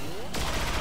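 Gunfire in the XCOM 2 video game, a sudden burst of rapid shots that starts partway through and rattles on to the end, with a faint voice before it.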